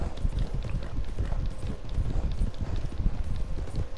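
Horse galloping in the video game Red Dead Online, a steady rapid clip-clop of hooves running throughout over a low rumbling background, fairly close and continuous.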